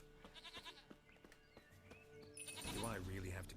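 A goat bleats in The Witcher III: The Wild Hunt, a few short wavering cries at low volume alongside other game sounds, with someone talking near the end.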